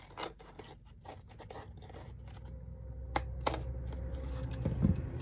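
Scissors trimming paper for a handmade collaged envelope, giving a few short, close snips and faint scraping sounds in a quiet room.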